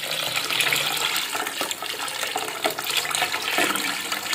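Water poured into a cooking pot for making trotters (paye), a continuous splashing, gushing stream that fills the pot at a fairly loud, steady level with slight surges.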